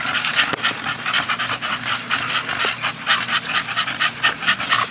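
Several American Bully dogs pant rapidly and steadily while playing in a kennel, the breathy rhythm loud and close with a faint whimper or two mixed in.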